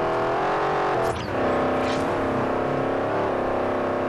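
Car engine in the Forza Horizon racing game, a steady droning hum with brief revs and shifts, heard close and continuous with no talk.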